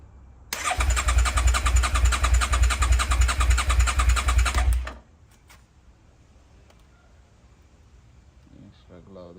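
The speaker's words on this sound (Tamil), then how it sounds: "வண்டியை ஸ்டார்ட் பண்ணி பார்ப்போம்." A Suzuki SV650 motorcycle under rebuild, with a loose battery connection, cranks and runs steadily and loudly for about four seconds before cutting out, leaving quiet background with faint clicks.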